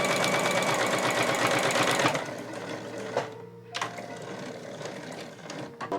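A sewing machine stitches a tucked pouch in a loud, fast, continuous run lasting about two seconds, then stops, leaving quieter clicks and fabric-handling noises.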